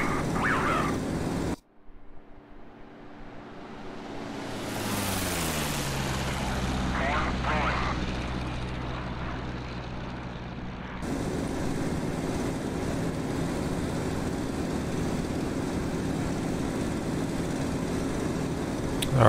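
A Focke-Wulf FW190-A8 radial engine drones steadily in the DCS flight simulator, dropping in pitch as the throttle comes back, then settling into a constant roar in flight.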